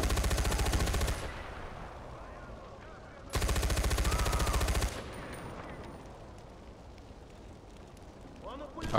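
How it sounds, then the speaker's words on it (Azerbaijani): Two loud bursts of rapid machine gun fire in Far Cry 4, each about a second and a half long, with quieter game ambience and voices between and after them. "Pulemyot."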